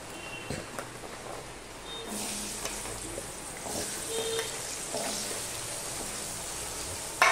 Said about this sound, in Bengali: এবার এই তেলের মধ্যে আমি দিয়ে দেবো আলুগুলো।